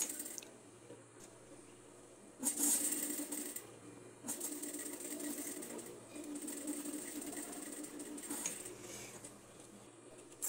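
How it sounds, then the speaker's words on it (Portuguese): A sewing machine stitches over a finished sleeve edge on a blouse, running in short bursts of rapid mechanical whirring with brief pauses between, close and fairly quiet, no talking. "fiz uma costura em cima desse acabamento"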